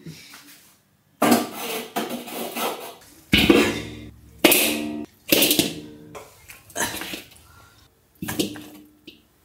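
An old family heirloom cooking pot is handled in a kitchen while preparing braised pig's head, giving a series of loud metallic clanks and scrapes in separate bursts with short pauses between them.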